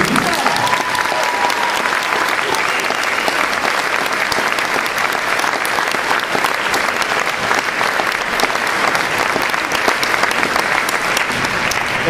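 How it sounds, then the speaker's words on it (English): Concert audience applauding senior band members at a high school spring instrumental band concert: sustained, even clapping from a large crowd, loud and continuous throughout. "So I'd like for you all to show them your appreciation by giving them some applause."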